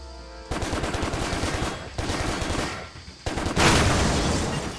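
Sustained gunfire in the video game Stranglehold rattles in long, dense bursts aimed at a barrel. The shooting is loud and close, stopping briefly between volleys and ending in a heavier burst.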